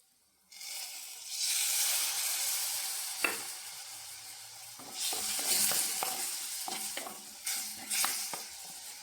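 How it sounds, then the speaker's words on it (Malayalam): Tamarind water poured into a hot curry pan sets off a sudden loud hiss after a moment of near silence. The sizzle carries on, swelling again with bursts of bubbling and stirring scrapes. "ഇനി നമുക്ക് കുറച്ച് പുളിവെള്ളം ഒഴിച്ചു കൊടുക്കാം"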